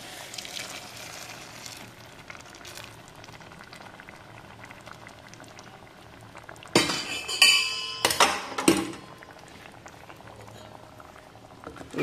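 Mushroom and drumstick curry simmers in a pot with a soft continuous bubbling, and then a sudden burst of loud metallic clinks and scrapes from a utensil against the pot before the quiet simmering resumes.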